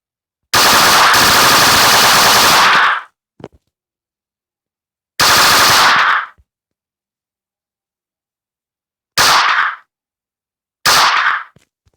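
Loud bursts of rapid automatic gunfire, four separate volleys, the first long and the later ones shorter, with silence between them.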